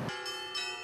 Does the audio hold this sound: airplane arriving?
no